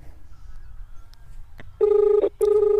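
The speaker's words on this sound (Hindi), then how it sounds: "जो हमारे फ़ोन के अंदर जो रिंग बज रही है" A phone rings deep underground, roughly 50 to 60 feet down, giving two loud, close electronic ring bursts after a quiet stretch with a faint click or two.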